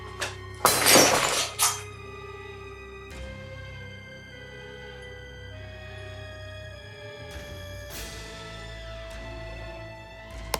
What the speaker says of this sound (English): The glass suddenly cracks and breaks without warning, despite the gentle touch